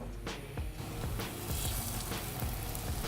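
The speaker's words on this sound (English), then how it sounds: "adding a little bit of extra oil to the pan will give you those nice crispy brown edges on the falafel" Falafel frying in olive oil in a pan gives a steady, close, dense sizzle that holds throughout, with a few brief crackling bursts.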